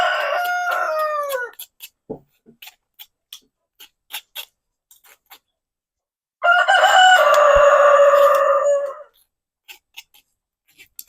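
Roosters crow twice, loud and close: one call at the start and a longer one midway. Sharp scattered clicks and taps fill the quiet gaps between the crows.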